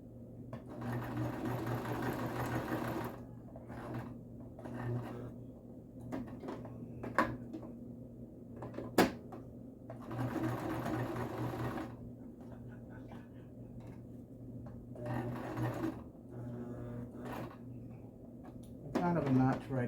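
A sewing machine stitches a fabric face cover and neck shield in bursts of fast, close mechanical whirring. It pauses while the material is turned at the corners, with handling clicks and rustles in the gaps.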